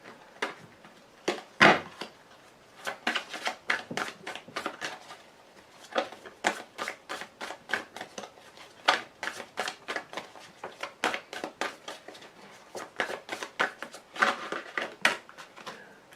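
Tarot cards being shuffled and dealt by hand, a long run of quick, crisp riffling snaps and flicks in close succession, near and fairly quiet, with no talking.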